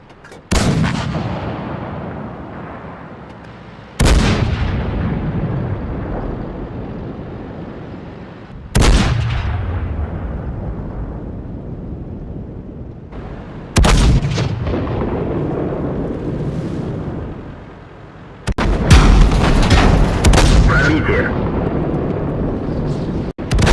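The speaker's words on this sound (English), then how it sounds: "So there you have it, the new gun sounds." Tank guns firing in the video game World of Tanks, including 130, 120 and 155 mm calibers: five loud, booming shots spaced a few seconds apart, each with a sharp crack followed by a long rumbling decay.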